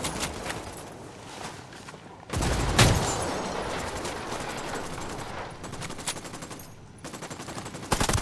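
Sustained automatic gunfire from a firefight in Ghost Recon Wildlands, dense rapid bursts with sharp heavier shots, loud and near, broken by brief pauses.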